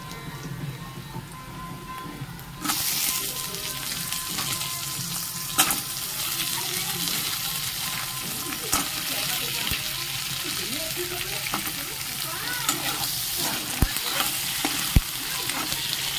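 Creek crabs dropped into hot oil with a spice tempering burst into a sudden loud sizzle, followed by a steady frying crackle with occasional clattering stirs of a spatula against the pan.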